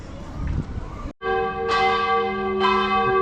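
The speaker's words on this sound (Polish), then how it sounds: "Przywitali nas dzwonami w samo południe." Church bells ring out from a town clock tower at noon in Croatia, with repeated loud strikes and long overlapping ringing tones after a brief gap, set against faint outdoor background noise.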